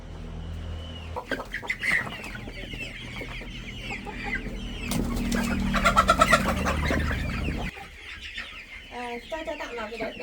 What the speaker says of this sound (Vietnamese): Mấy con gà đẻ trứng nữa.